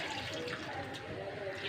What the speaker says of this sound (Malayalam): കുറച്ച് വെള്ളം ഒഴിച്ചു കൊടുക്കട്ടാ.